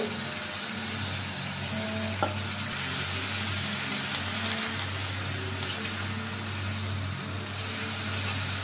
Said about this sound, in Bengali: ফুলকপিটা একটু কষাই নেব।